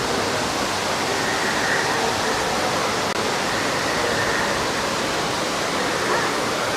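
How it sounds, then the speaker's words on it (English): A waterfall at Disney's Animal Kingdom theme park gives off a steady, loud, continuous rushing roar that stays even throughout. "There's that neat waterfall again."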